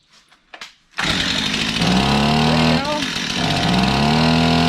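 A Ford 7.3 Super Duty diesel engine roars to life after a second of quiet, then runs loud and close, its revs rising and falling in uneven surges.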